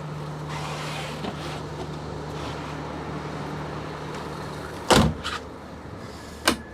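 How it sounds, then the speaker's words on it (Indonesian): A low idling hum from an Aneka Jaya Discovery SR3 bus's front engine runs throughout, then a loud door thud lands near the end as the door shuts, followed by a smaller clunk. "Coba pintunya saya tutup."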